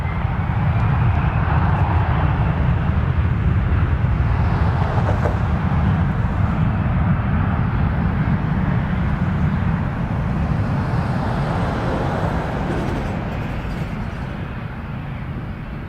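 An Air Canada Rouge airliner takes off from runway 23 at Toronto Pearson, its engines a loud, steady broadband roar that fills the whole stretch and eases only slightly toward the end.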